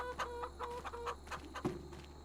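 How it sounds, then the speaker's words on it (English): Chickens clucking in the farming game Farming Simulator 25, a run of short, close hen clucks repeating every fraction of a second with a steady low hum underneath. "Let's get down to the chickens"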